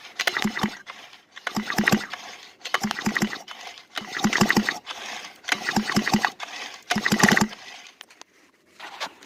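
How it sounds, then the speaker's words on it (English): Small earth auger post hole digger engine being pull-started by rope, six repeated rasping pulls in a steady rhythm, each a short burst of cranking and sputter, close and loud with no voices. "If I can hold this and pull the cord, it'll be amazing."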